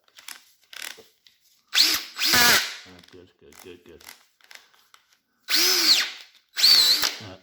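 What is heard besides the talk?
cordless drill running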